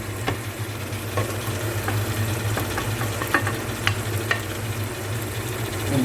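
Partly boiled meat goes into sizzling masala in a kadai, a steady close frying hiss with scattered clinks and scrapes of stirring, no talking.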